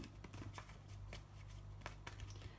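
Quick crisp fluttering of tarot cards being shuffled, soft and close, with a low steady hum underneath.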